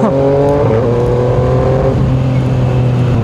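A 2019 Yamaha Niken 900 three-wheeled motorcycle runs close by, its engine note droning and shifting pitch as it revs and settles, loud and steady with no talk.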